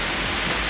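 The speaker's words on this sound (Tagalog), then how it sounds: "lumakas na nga yung ulan dito sa area natin" Heavy morning rain pours down in a rural area near a pigeon loft, a steady, dense hiss that fills the short stretch with no other sounds.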